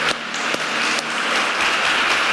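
A church congregation applauds steadily throughout, a dense wash of clapping at fairly close range with no voices above it.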